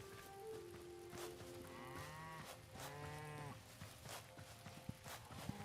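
A cow in the video game Hytale lets out drawn-out, harmonic moos, two longer calls standing out mid-clip, over a steady game ambience with soft rain-like patter and occasional clicks.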